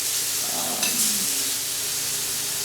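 Meatless bacon sears in grapeseed oil in a frying pan, giving a continuous close bright sizzle and crackle with a brief louder spatter.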